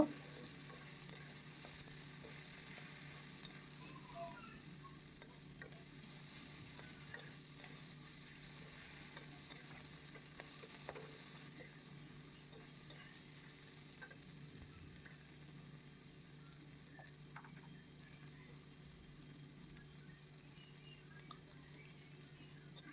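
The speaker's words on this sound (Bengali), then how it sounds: "টমেটোটা দিয়ে আবার ভালো করে ভেজে নেবো" Steady frying sizzle of chopped tomatoes with a pinch of salt, with intermittent scraping and clinks of a spoon stirring in a pan, continuous and close, no voices.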